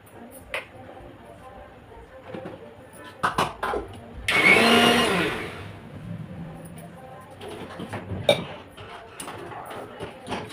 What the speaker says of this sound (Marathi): हे दही मी मिक्सरमध्ये करून घेते